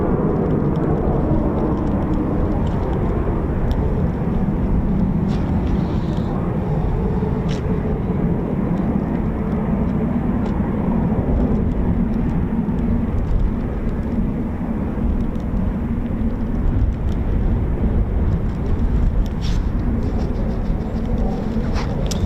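A Eurofighter Typhoon FGR4 jet at RAF Coningsby produces a loud, sustained roar that stays broad and steady throughout, without speech.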